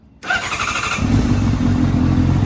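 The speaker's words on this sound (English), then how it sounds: "The bike should start now." A Honda CBR600RR sport motorcycle engine cranks over and catches, settling into a loud, steady, close-up idle rumble.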